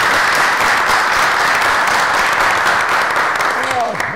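Sustained applause fills a municipal meeting, a dense, even clapping from a room full of attendees with a voice briefly audible near the end.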